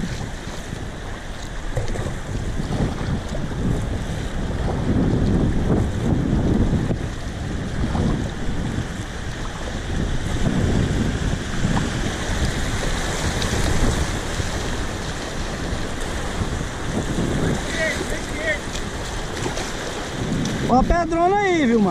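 Kayak running small river rapids on the Rio das Almas in Goiás, with steady rushing water and wind buffeting the microphone throughout, loud and close, with no talk.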